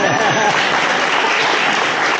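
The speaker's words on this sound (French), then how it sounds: "Une bonne main d'applaudissement pour Nicole!" An audience claps loudly and continuously at a volunteer-of-the-year celebration, a dense close wall of applause with no voices standing out.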